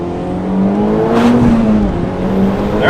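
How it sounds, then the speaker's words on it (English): A Mitsubishi EVO pulls hard at wide open throttle, its engine a loud, steady drone whose pitch climbs through the rev range before easing and rising again, with no talking. "There's wide open throttle."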